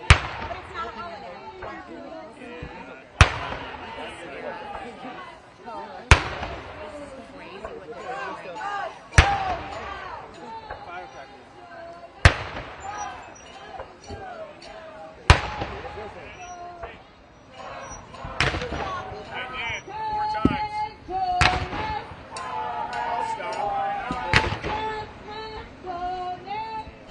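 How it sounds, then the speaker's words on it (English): Cannon-like booms go off outside the White House during an anti-Trump protest, sharp loud bangs repeating every few seconds over steady crowd noise while people talk nearby. "Sounds like cannon."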